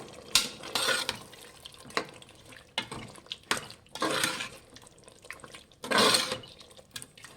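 Garam masala stirred into frying biryani masala in a pan, a series of scraping, clattering stirs with a spoon against the pot, separated by quieter gaps, close and with no voices.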